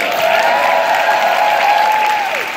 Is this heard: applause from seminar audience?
yes